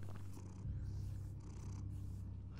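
In Batman The Telltale Series, a cat purrs in soft, rhythmic rumbling pulses close by, continuing steadily under a low background drone with no talking.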